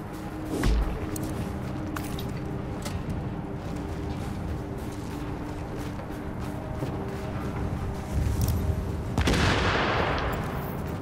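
Gunfire in the video game The Division, distant bursts and scattered shots popping in the background of a quiet survival co-op scene, with a louder crack near the start and another flurry toward the end.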